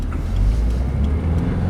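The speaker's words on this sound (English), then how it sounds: "So it looks like I got some traffic here" Road traffic passes a 2015 Subaru WRX, heard from inside as a loud, steady low rumble and drone of engines and tyres with no talking.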